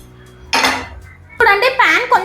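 A pan for a broccoli omelette lifted and set down on a stove, giving a bright metallic clatter, then a second clang and rattle as a voice talks over it.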